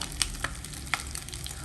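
Eggs fry in a pan with a low, constant sizzle, punctuated by a few sharp crackles and spits close by.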